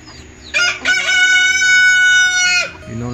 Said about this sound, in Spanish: ahí está buscando su pollito